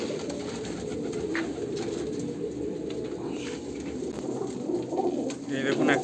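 Andhra Kalanka pigeons in a female loft keep up a steady, overlapping chorus of low cooing nearby, with a person talking faintly beneath the birds.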